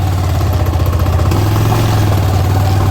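A vehicle engine labours loudly and up close while climbing a mountain road near a hilltop village in Salem district. The steady revving drone shifts pitch partway through.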